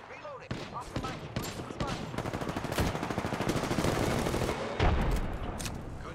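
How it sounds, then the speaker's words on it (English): Rapid automatic gunfire in the Apex Legends video game, dense bursts running nearly continuously and loud, with a heavy impact near the end. "Contact with target. Opening fire on the enemy."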